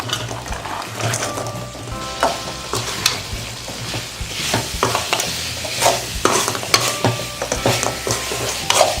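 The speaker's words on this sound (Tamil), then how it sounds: "இந்த சமயத்தில் எண்ணெயில் பொரித்து சேப்பங்கிழங்கு போட்டு" Fried taro root pieces are tipped into a bubbling tamarind gravy and stirred, giving steady sizzling and frying with repeated scraping, clattering spoon strokes against the pan, close and busy throughout.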